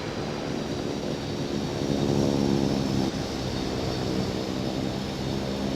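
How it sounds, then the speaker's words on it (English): A plane takes off in the Infinite Flight flight simulator game, its engine a steady, loud, continuous drone that swells slightly midway and holds throughout. "Turkish 255 is taking off runway 8, remaining in the pattern"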